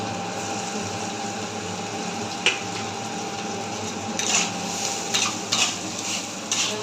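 Chopped ginger frying in a pan for egg chow mein, a steady close sizzle running throughout with a few sharp clinks and scrapes of stirring toward the end.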